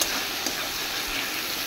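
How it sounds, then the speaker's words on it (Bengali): Onions sizzle and fry steadily in a pan, softening with a little salt while being stirred, a continuous close hiss with a faint scrape of stirring near the middle. "তো পেঁয়াজটা ভালো করে নেড়ে চেড়ে ভেজে নেব যতক্ষণ না নরম হয়।"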